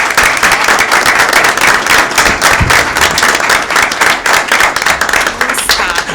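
A room at a Village of Lynwood board meeting breaks into applause for a board member, with dense, loud, continuous clapping from many people throughout.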